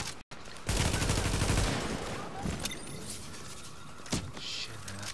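Weapon fire in The Division's Dark Zone, a dense burst of rapid shots after a brief pause, then continuing gameplay noise with scattered sharper reports, loud and close throughout.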